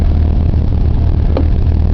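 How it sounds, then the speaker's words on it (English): A car engine running loud and close, a steady low rumble holding at high revs without a break. "It builds up revs pretty nice"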